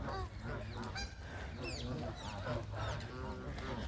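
Flock of Canada geese in a rainy park, honking and chattering continuously at close range, many overlapping calls in a busy, noisy chorus.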